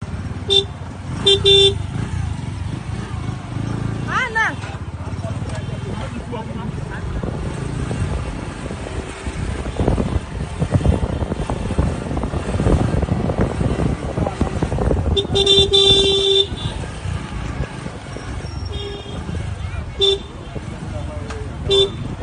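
Car horns honk in short bursts amid engine noise and loud voices as cars block the road leading to Abuja in a protest, with honks coming near the start and again in the middle.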